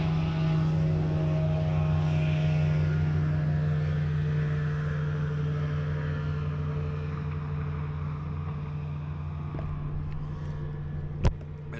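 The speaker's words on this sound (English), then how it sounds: "Actually, no, that's just a speedboat." A speedboat passes on Tims Ford Lake, its steady engine drone and hull rumble filling the scene at moderate distance, holding fairly constant before easing slightly, with a brief sharp click near the end.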